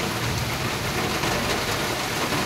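Heavy monsoon-style downpour on an open rooftop, a dense, loud, unbroken roar of rain with no voices.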